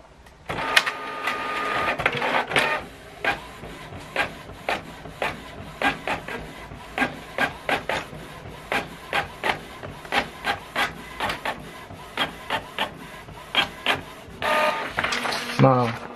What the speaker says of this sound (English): So this correspondent has been sent to the printer right now.